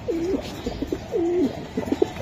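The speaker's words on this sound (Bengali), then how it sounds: "অস্থির কবুতর" Racing pigeons coo restlessly nearby, giving repeated rolling low coos with soft flutters and chirpy notes between them over steady background noise.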